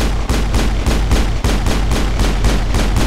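Rapid repeated gunfire in the sci-fi video game Mass Effect, a loud, close burst of evenly spaced shots lasting a few seconds, heard alone.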